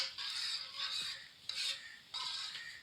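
Carrot mixture with cream being stirred in a pan, four rhythmic scraping sweeps of a spoon across the pan bottom, close and moderately loud with no voices.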